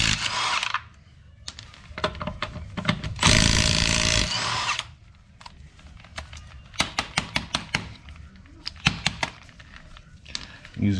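Bursts from a Milwaukee stubby 1/2-inch impact wrench on a car raised on jacks and jack stands for front strut replacement, one long loud run followed by a series of short rapid hits, with a voice talking in between.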